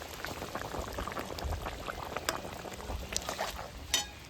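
A pot of chicken curry with potatoes bubbles and simmers, a soft constant gurgle with scattered little pops and plops, fairly quiet and close, no talking.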